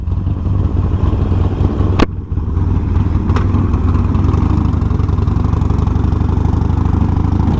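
A Harley Sportster idles loudly up close with a steady rumbling throb, among other motorcycles pulling out together on a group ride, with a brief clack partway through.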